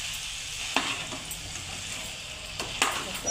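Hand-crumbled boiled potatoes are stirred and mixed in a hot, sizzling pan for puri bhaji. A steady fry hiss runs throughout, broken by a few sharp spoon scrapes against the pan.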